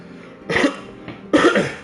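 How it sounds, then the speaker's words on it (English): Two harsh coughs, close and loud, come about a second apart from a man who is ill. "Damn, this damn cough."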